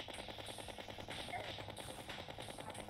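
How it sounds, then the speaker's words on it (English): A Tommy gun fires in Terraria in a rapid, evenly spaced burst of shots. The stream of gunfire is steady and moderately loud throughout, with no talk. "Tommy gun"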